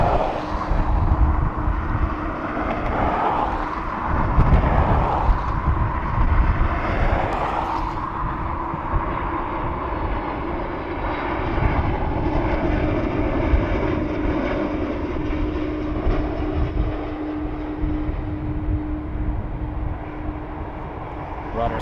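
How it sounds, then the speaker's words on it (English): A Ryanair airplane lands at Dublin Airport, its engine roar swelling loud and close before settling into a long, steady rumble of rollout, with a voice talking faintly beneath. "Rather smooth landing for that Ryanair"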